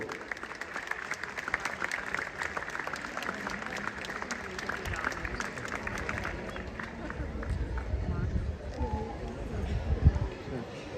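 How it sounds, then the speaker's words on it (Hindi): A large audience at an annual day celebration claps continuously for the Defence Minister of India, dense and steady for over ten seconds, with a low rumble and a few voices rising near the end. "तो मैं चाहता हूं कि आप सब तब तक तालियां बजाएं जब तक माननीय रक्षा मंत्री महोदय का अभिभाषण प्रारंभ न हो जाए।"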